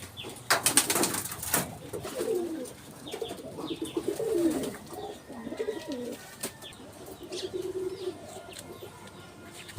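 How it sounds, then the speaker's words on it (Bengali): Soft, low pigeon coos repeat in short rolling phrases from a backyard garden coop, close by, with a brief flutter of wings and some rustling near the start. "কবুতরের ঘর"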